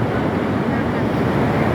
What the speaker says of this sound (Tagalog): malakas yung current ng alon ngayon dito sa Nakpan